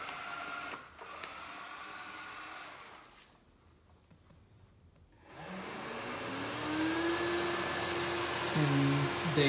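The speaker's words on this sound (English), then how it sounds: "tell Samsung to turn on robot vacuum." A Samsung PowerBot robot vacuum starts up after a quiet pause, its motor rising into a steady, loud whir with a tonal hum that climbs in pitch and holds, close by and with no talking.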